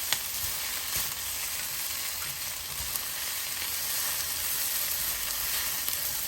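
Chicken noodles with sauces frying in a pan, a continuous loud sizzle with occasional stirring scrapes and clicks, no voices.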